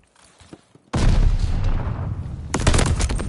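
A grenade explodes in a console shooter game, a sudden loud boom followed by a sustained roar, then a second burst of heavy gunfire about one and a half seconds later, close and intense.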